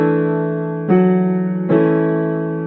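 Piano playing a chord from a song, close and clear, with notes struck in three stages that build the full chord while earlier notes are held and ring on.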